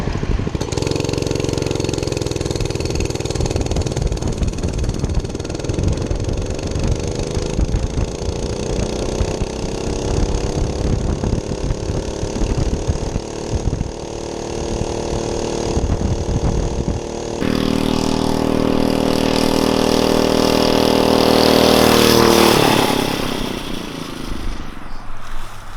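A Monster Moto 105cc minibike engine labours uphill with a steady, droning mid-pitched hum that slowly climbs in pitch, then shifts to a higher, louder whine toward the end, close and continuous.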